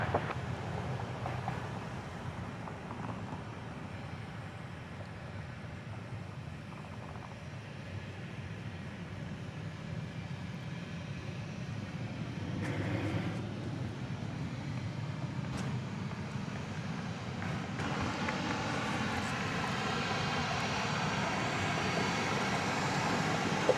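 A jet airliner rolls for takeoff on runway 31 left at Dallas Love Field at night, a continuous broad engine roar building gradually and heard from a distance, with no talk.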